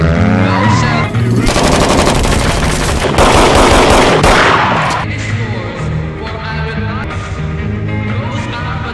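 Rapid automatic gunfire in an action film scene, dense bursts of machine-gun shots over a tense score, loud and continuous with heavier volleys in the middle.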